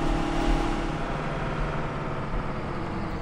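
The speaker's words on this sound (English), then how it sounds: "let's go ahead and just drive this around for a little bit so we can hear what the engine sounds like" Big Bud tractor in Farming Simulator 17 driving along, a steady, loud mid-range engine drone with low rumble that holds evenly throughout, no talking.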